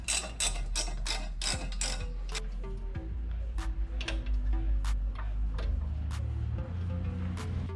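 A ratchet with an E7 socket loosens the rear brake caliper bolts on a BMW 335i, giving close, crisp clicks that are rapid at first and then slow to sparse, spaced ticks with faint mechanical rattle.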